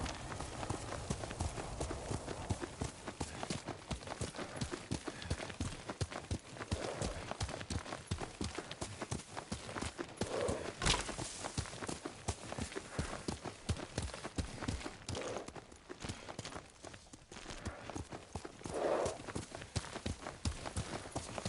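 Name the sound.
horse hooves clip-clopping, from a video game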